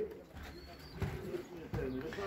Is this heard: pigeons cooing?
yes